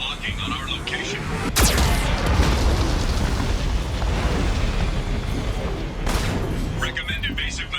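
In the video game Mass Effect 2, a geth cannon fires: a heavy booming blast hits early, followed by a rumbling roar of explosions that continues throughout, with a second sharp burst near the end.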